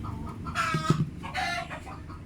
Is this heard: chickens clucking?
yes